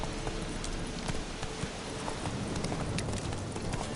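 Horse hooves in a fantasy video game beating in a quick, steady clip-clop rhythm as the mount runs at pace, close and continuous with no voices over it.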